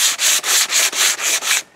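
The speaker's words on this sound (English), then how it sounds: "give it a light sanding because I want to stain this." A wooden hiking stick is hand-sanded to prepare it for staining, with seven steady back-and-forth rasping strokes close up and no talking.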